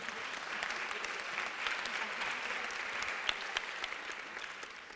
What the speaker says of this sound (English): Give him a clap, will you?